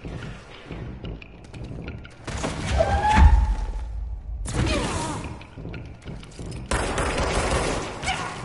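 Enemy shooters in the video game Control fire in bursts, loud volleys with heavy thumps and mechanical clatter coming in separate clusters over several seconds.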